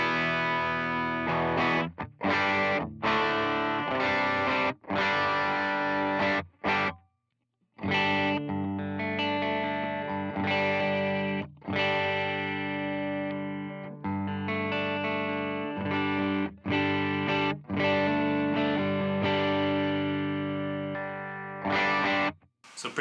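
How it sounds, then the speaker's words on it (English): Loud, heavily distorted electric guitar through an HX Stomp amp modeler on the bridge humbucker, playing chunky chords and riffs with brief stops, a saturated, buzzy amp tone throughout, no voices. "This is just going to be core amp tones, just coming from the HX Stomp here."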